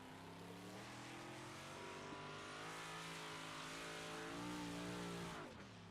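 A modified race car laps the Williams Grove dirt oval, its engine note rising and falling steadily as it accelerates, with a strong harmonic drone and faint tire noise.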